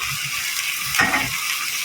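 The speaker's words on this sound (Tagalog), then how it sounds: "Pritong galunggong, kaya basta prito isda." Steady hissing sizzle of galunggong (round scad) fish frying in a hot pan, with a brief louder spatter in the middle.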